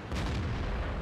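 A tank gun round striking an enemy tank in World of Tanks, heard as a single dull, booming impact with a short rumbling tail, fairly loud, with no talk over it.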